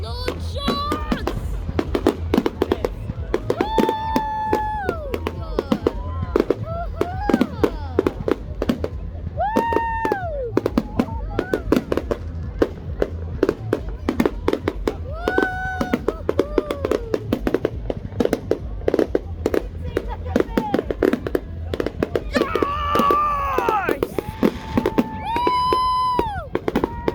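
Firework rockets whistle up and burst over and over at a Bonfire Night display at Littledown, a loud, crowded run of cracks, bangs and rising screeches with a soft crowd murmur beneath.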